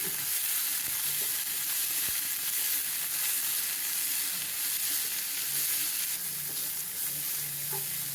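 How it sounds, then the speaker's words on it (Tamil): Onions and fresh peas sautéing in a pan with a little salt, a steady soft sizzle throughout, fairly quiet, with faint scraping from stirring and no talking. "வெங்காயம் வதங்குறதுக்காக கொஞ்சமாக உப்பு சால்ட்டு சேர்த்துடுங்க ஃப்ரெஷ்ஷான பட்டாணி பீஸ்"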